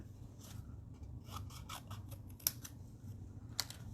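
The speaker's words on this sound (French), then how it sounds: "Je vais prendre mes ciseaux." Quiet, crisp snips of scissors cutting paper, several short cuts in an irregular sequence, close by against a faint background hum.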